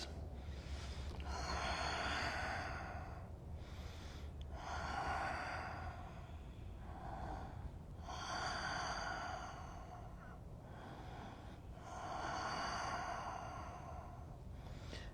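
Slow, deep breaths are drawn in and out while a yoga pose is held, about four unhurried cycles of soft airy inhales and exhales over a faint steady background hum.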